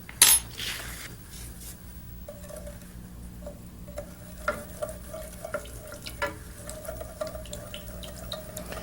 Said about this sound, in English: Let's sprinkle in our asafoetida